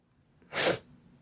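A single short, sharp sneeze bursts out close by, surrounded by quiet.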